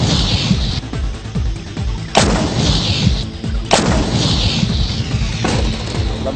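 A KH-178 105mm towed howitzer of the Indonesian Army fires during a live-fire test, two heavy sharp blasts about a second and a half apart over a constant loud background rumble.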